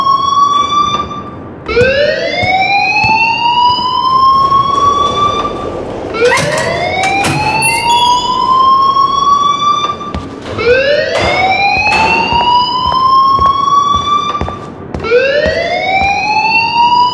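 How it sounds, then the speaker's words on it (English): A loud wailing alarm in the video game Life is Strange, a siren-like tone that sweeps upward and holds, repeating in steady cycles of about four seconds with no voices over it. "please turn off that alarm since that's your job"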